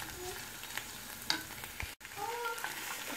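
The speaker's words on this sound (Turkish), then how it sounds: "Şimdi bunu kokusu çıkana kadar kavuracağım ve patatesleri ekleyeceğim." Onions with tomato paste fry in a pan with a close, steady sizzle, broken by a few soft spoon scrapes and one abrupt cutout, with no talking.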